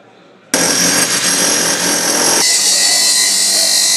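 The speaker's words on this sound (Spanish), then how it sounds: "Martillos y sierras radiales nos avisan" A jackhammer and an angle grinder work loudly at a construction site in Spain. The noise starts abruptly after a short quiet moment, then shifts to a harsher, higher whine partway through, continuous and close.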